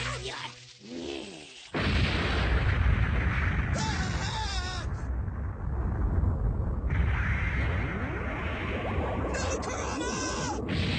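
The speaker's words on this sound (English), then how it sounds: "Time to say, bombs away! That's what I call my mad bomb." Bombs exploding in an anime battle between Kurama and Karasu, with loud booming blasts from about two seconds on, sustained rumbling debris and crackle, and whooshing effects woven through the fight noise.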